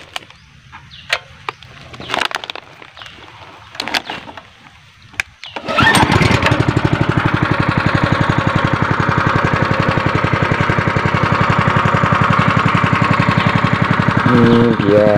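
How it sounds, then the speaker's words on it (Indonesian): A water pump engine filling a tank at a rocky durian orchard, with a few clunks and pull attempts, then a sudden start into a loud, steady, rapid chugging run close by. "mesinnya biar panas dulu ya"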